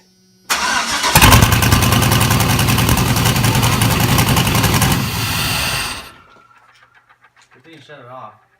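A turbocharged LS-swapped Chevy C10 with a freshly welded crossover pipe cranks and fires into a loud, raspy roar that holds for several seconds, then cuts off, followed by faint voices.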